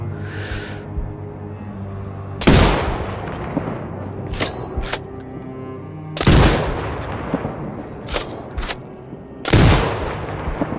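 Sniper rifle fire in Sniper Ghost Warrior Contracts 2, with three loud sharp shots spaced several seconds apart, each followed by a rolling echo, plus quieter mechanical clicks of bolt cycling in between.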